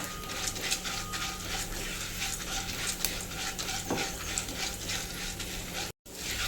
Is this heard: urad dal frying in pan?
yes